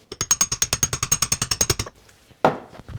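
About fifteen rapid, evenly spaced metallic hammer blows drive a part home during a Triumph TR4 gearbox rebuild, loud and close, followed by a pause and one heavier clank.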